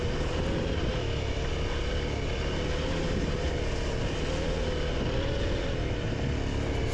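Motorcycle engine on an off-road trail ride in Spain, revving hard under heavy throttle with a dense, loud, continuous roar and rumble that rises and dips slightly, heard close with wind noise and no talk.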